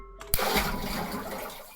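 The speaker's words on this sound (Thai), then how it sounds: "เหมือนมีแบบชักโครก" A toilet flush sound effect plays in the horror video game Ib. It opens with a sudden rushing onset, then water churns steadily and fairly loud with no voices.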